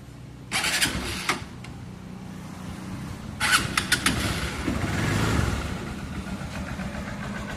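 A TMX Supremo motorcycle engine cranks and catches, sputtering briefly before settling into a steady low idle with a few light revs, nearby and fairly loud, during an oil change.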